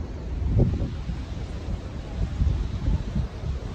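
Strong, cold wind at a mountain location near the Atal Tunnel in Manali buffets the microphone in a continuous low rumble with gusty swells, close and loud throughout.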